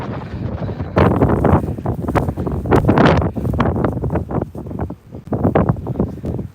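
Storm wind on an Edinburgh dog walk buffets the microphone in loud, ragged gusts, roaring and rustling continuously with no talk.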